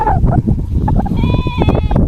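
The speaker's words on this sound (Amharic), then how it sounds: "እንግዲህ ዛሬ በአንድ ቀን ገበያ የተገዛ በግ ነው።" A sheep bought at a market that day bleats in a quavering call, heard amid livestock and people talking nearby.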